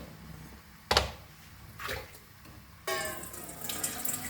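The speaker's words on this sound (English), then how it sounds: "so we'll add some water to this" Water splashes into a pot of mutton curry in short bursts: a sharp splash, a softer pour, then a longer steady stream near the end, close and fairly quiet with no talking.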